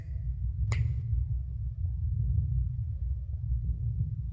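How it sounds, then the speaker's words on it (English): A single sharp finger snap cracks out once over a low, constant rumble, followed by quiet. "All I have to do is snap my fingers like"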